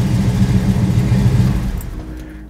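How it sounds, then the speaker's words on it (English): A 383ci Dodge Super Bee, probably fitted with turbo mufflers, idles close by with a deep, loud, steady exhaust rumble that tapers off toward the end, with no voices. "Starts right up, sounds great. Real nice rumble to it."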